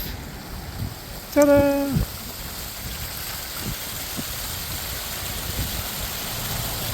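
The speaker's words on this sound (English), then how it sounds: "in case you thought you weren't close to nature, there's the waterfall" A waterfall on the Appalachian Trail rushes in a steady, broad roar, while a voice briefly exclaims over it near the start.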